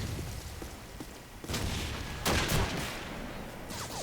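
Gunfire during a Call of Duty 2 team deathmatch on the Toujane, Tunisia map, scattered shots with a couple of louder bursts over a steady game background, no talk.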